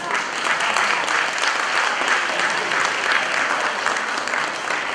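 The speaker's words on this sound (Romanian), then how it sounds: "Să-l aplaudăm încă o dată pentru prestația avută în concurs." Steady, dense applause from an audience honoring a folk music solo prize winner at a school arts awards ceremony, continuous and even throughout with no voices standing out.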